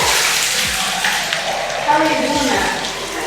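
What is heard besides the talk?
hot spring water constantly flowing in Tbilisi bath house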